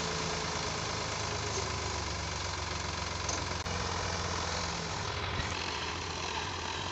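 A Swaraj 744 tractor engine runs steadily at idle throughout, a continuous mid-pitched diesel rumble with faint knocking, close and loud with no speech.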